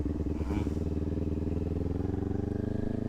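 Motorcycle engine idling with a rapid, even throbbing beat while the rider downshifts into first gear, close and steady, with a brief rise in revs early on.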